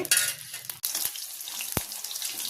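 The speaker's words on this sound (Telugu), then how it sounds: "మిరపకాయలని మంచిగా ఫ్రై చేసుకోవాలి." Green chillies sizzle in a couple of spoons of hot oil in a pan, a crackling hiss interrupted by brief pauses and a few sharp pops close by.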